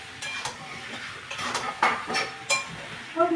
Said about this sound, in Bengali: এবার আলু মশলা পটল একসঙ্গে একটু কষে নিই।